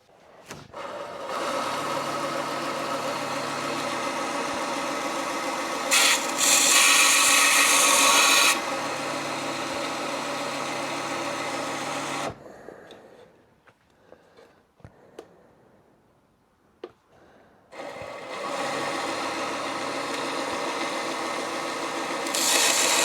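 A knife is ground on a powered sharpening grinder in long steady passes, a loud continuous rasping hum broken by a pause of quieter scraping before grinding resumes, with no one speaking.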